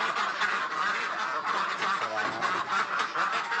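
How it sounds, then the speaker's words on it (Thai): Dense, continuous quacking from a crowd of ducks at morning egg collection on a duck farm, close and steady with overlapping calls. "เดี๋ยวเรามาเก็บไข่นักเป็ดด้วยกัน"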